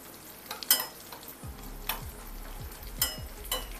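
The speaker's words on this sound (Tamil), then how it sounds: "இப்போ திராட்சையை போட்டுக்கலாம்" Raisins tipped into a hot pan while making corn flour halwa: a quiet, soft sizzle broken by a series of light scraping stirs and small clicks, spaced roughly every half second.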